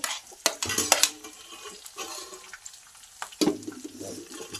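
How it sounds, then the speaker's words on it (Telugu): Onions cook in a pan for homemade fried rice, with bursts of spatula stirring and metal clatter over a faint low sizzle, then quieter gaps between the stirs. "ఉల్లిపాయలు మగ్గ పెట్టాడు"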